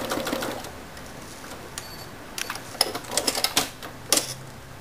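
A sewing machine free-motion stitches circles on a butterfly quilt, heard as bursts of rapid close mechanical clatter separated by brief pauses, moderately loud in a quiet room.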